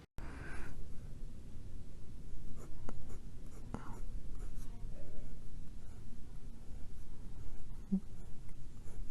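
A Parker Jotter fountain pen scratches across slightly gritty paper, close and steady, with soft strokes and occasional lifts of the nib, and quiet speech-like murmuring in the background.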